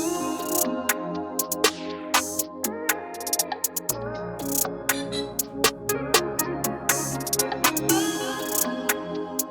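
An R&B beat built in FL Studio, with a counter clap added against the snare pattern, plays alone: a steady groove of sharp, evenly spaced clap and drum hits over sustained bass and synth tones, with a deeper bass layer entering midway.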